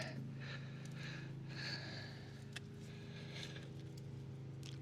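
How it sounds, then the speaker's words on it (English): A pressure washer cleans a driveway somewhere in the distance, making a faint, steady motor drone that holds unchanged for the whole stretch. "I think someone's jet washing their driveway."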